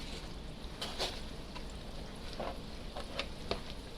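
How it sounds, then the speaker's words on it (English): Steady soft sizzling of onion petals frying, with a few crackles and pops over a constant hiss. "as we're hearing the sizzle"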